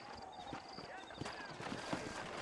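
Horse hooves clip-clop in Red Dead Redemption, set in New Austin, a steady rhythmic patter partly masked by a voice and game ambience throughout.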